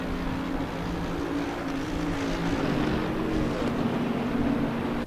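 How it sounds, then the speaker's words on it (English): Bentley GT3 race car in the racing game Assetto Corsa Competizione, a big steady engine drone held loud for the whole few seconds as the car sweeps past the camera, with no speech over it. "The Bentleys just sound big when they fly past the camera."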